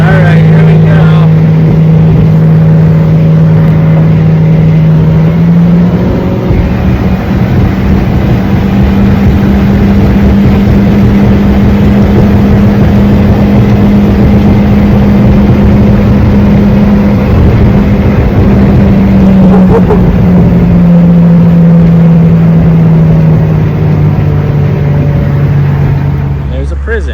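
An old motor running flat out at top speed, a loud, steady, close drone with a sustained tone that shifts slightly in pitch partway through, with a voice talking over it.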